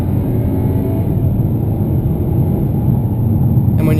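A 2015 Hyundai Sonata with a 2-litre turbo engine pulling hard under full throttle, heard from inside the cabin as a loud, steady low drone and rumble with a faint rising whir, and no talking.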